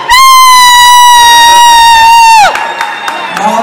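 A concert crowd at the RAW Denver showcase at The Church cheers for the performer, led by one long, loud, sustained high-pitched yell that breaks off into scattered crowd noise and shouts.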